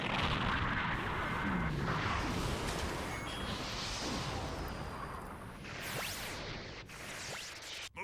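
Weapons firing in a Gundam video game: a loud, continuous roaring barrage with heavy low rumble and whooshing sweeps, fading slightly before a final sharp hit.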